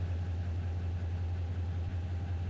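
Locomotive engines idling in a large rail yard in a Roblox train game, a steady low diesel drone with a constant hum and faint rumble, unchanging and alone.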